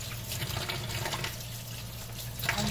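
Food being rinsed under a running tap, a continuous soft splashing of water with faint drips and a slightly louder spurt near the end.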